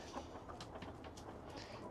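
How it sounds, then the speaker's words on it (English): Chickens cluck softly inside a cattle-panel greenhouse coop during a snowstorm, several short calls scattered over a low, steady background hum. "Happy chickens."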